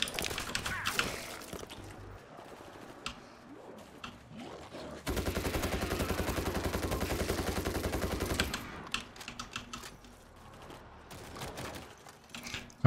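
Sustained automatic gunfire in the zombie shooter World War Z Aftermath, a dense rapid burst lasting a few seconds, framed by scattered shots, clicks and reload handling before and after.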